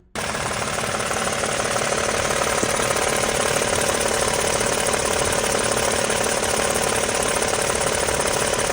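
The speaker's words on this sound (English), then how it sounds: "Is this engine noise supposed to sound like this?" An engine runs in a 2026 Toyota Tundra truck with just over 5,000 miles and an unusual noise: a loud, continuous, even mechanical drone with a rapid knocking texture, starting abruptly and holding steady throughout.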